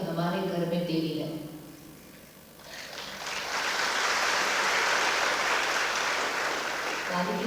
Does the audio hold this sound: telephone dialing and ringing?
no